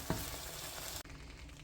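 Onion paste frying in hot oil in a pan, a steady bright sizzle with a brief stirring scrape near the start, close and fairly quiet, continuing without pause.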